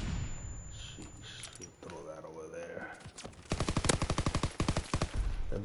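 Rapid automatic gunfire from a first-person shooter video game bursts out in a fast, loud rattle during the second half, preceded by quieter game sounds and a voice talking over them.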